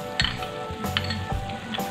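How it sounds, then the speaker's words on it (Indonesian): A cornstarch and water slurry for sweet and sour chicken sauce is stirred in a small bowl with a utensil, giving scraping and clinking strokes against a low sizzling kitchen background, close and moderately loud. "Lalu di sini aku aduk sampai rata."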